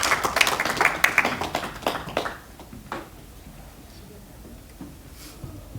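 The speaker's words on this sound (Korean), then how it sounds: "따뜻한 박수로 해주시기를 부탁드립니다" Brief, fairly close clapping from a seminar audience that fades out after about two seconds, leaving a quiet room with faint scattered taps.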